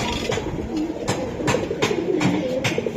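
Giribaz pigeons cooing close by, a series of repeated throaty coos with soft wing and cage rustles between them.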